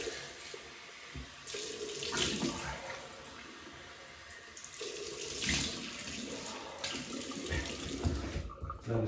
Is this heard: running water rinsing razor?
yes